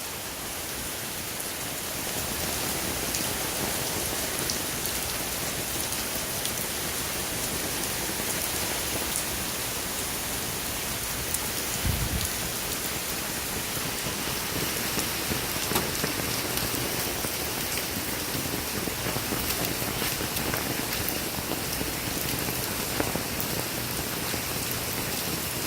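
Steady rain pours down during a June storm, a continuous wash of drops hitting surfaces close by, with water overflowing toward a backyard pool; no voices, just the unbroken hiss of the downpour for the whole stretch.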